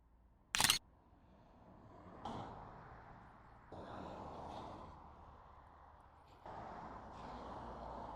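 A single crisp camera shutter click fires near the start while photographing a motorcycle outdoors beside a giant motorbike sculpture in Calne, Wiltshire, followed by faint outdoor background noise and passing traffic.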